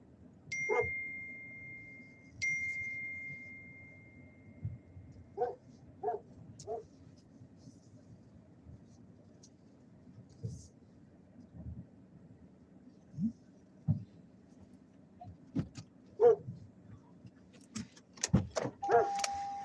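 A small dog inside a car makes brief whimpers and short barks at irregular intervals over a steady engine and road rumble, with door chimes early on and a cluster of louder yelps near the end.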